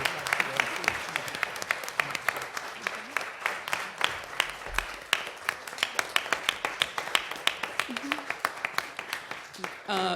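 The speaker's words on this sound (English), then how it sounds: "give these young people a round of applause for everything they've done today" An audience at a youth and police chiefs forum claps for young people, with sustained, dense applause and distinct individual claps throughout, and voices mixed in beneath.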